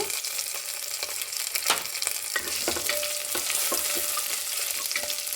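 Garlic and cumin sizzle and spit in hot oil in a pan for millet khichdi, a close, steady crackling hiss broken by occasional stirring scrapes, with no talking.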